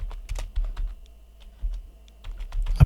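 Close, rapid typing on a computer keyboard at a Linux terminal, a quick irregular run of clicking keystrokes with brief pauses, alone without talk.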